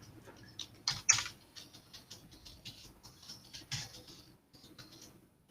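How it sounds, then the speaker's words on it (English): Soft, quick keyboard typing as a project name is entered on a computer, light rapid key taps with a couple of louder clicks, close and quiet with no voices. "I will type my classification project as my project name."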